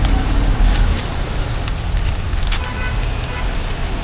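Roadside highway traffic with a passing truck, a loud, broad rushing roar with a heavier low rumble near the start, steady and close throughout.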